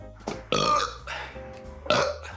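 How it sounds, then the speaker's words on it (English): A burp after drinking a Russian beer, several gurgling voiced bursts spread over about two seconds, loud and close, with no talk over them. "definitely passes the burp taste"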